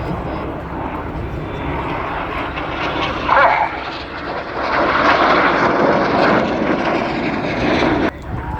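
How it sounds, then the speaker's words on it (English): Red Arrows RAF jets fly an aerobatic display at RIAT, Fairford. A loud, sustained roar of jet engines fills the clip, swelling midway, with a faint voice in the background. "aircraft will conduct a 360-degree aileron roll before turning hard away from each other"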